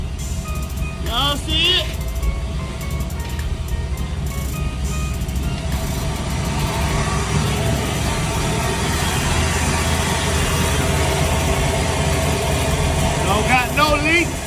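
An LS3 V8 running steadily in a 1972 Chevrolet Impala, a continuous low engine drone close by, with someone speaking briefly over it now and then.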